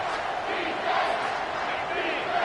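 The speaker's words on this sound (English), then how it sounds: "This crowd is trying to inspire this defense to make a big red zone stop." A football stadium crowd roars steadily, a dense, loud wall of cheering and yelling that urges the defense on during a red zone stand.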